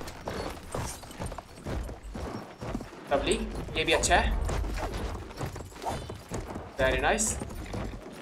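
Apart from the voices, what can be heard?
horse hooves galloping in video game Battlefield 1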